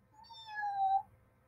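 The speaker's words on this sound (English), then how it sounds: "Meow." A single drawn-out meow, rising then falling, most likely a person voicing a kitten's cry while reading a children's story aloud. It is short, fairly quiet and heard alone.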